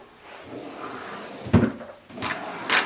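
A wooden drawer slides open with a soft scrape and a couple of knocks, followed by light clattering of items inside, close and fairly quiet.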